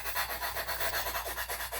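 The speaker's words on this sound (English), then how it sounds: "excuse the background noise because my son's filing away on some foam board because he's building another airplane" A hand file rasps on foam board for a model airplane, a quiet rhythmic rubbing at about four strokes per second, steady and somewhat distant, with no talking.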